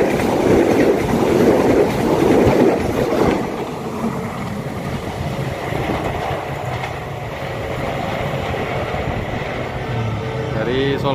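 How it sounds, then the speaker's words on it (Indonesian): A commuter train passes a level crossing in Indonesia, rumbling steadily with rail clatter, loud and close, its roar settling into a sustained hum as it continues by. "KRL melintas di JPL 105 Mayang"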